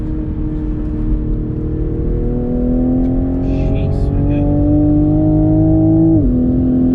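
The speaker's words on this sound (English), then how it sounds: "Bit of turbo lag, but when it comes in the boost, it's a decent shove." A turbocharged 2021 Toyota GR Supra engine accelerates hard, heard from inside the cabin, its steady drone rising in pitch for several seconds after brief turbo lag before a gear shift drops it; a voice speaks briefly.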